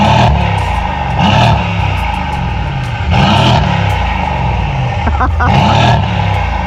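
A Mercedes C63s with aftermarket downpipes revs loudly up close in several hard bursts, each rising into a snarling roar and dropping back to a rumbling idle, with people talking between revs.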